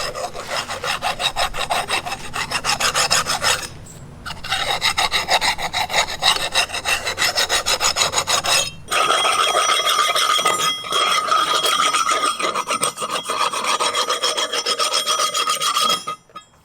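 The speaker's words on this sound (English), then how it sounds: "take a file and make sure there's no burrs on the surface" A hand file scrapes back and forth across the metal surface of a Dana 60 axle carrier, removing burrs with loud, rhythmic rasping strokes broken by a few short pauses.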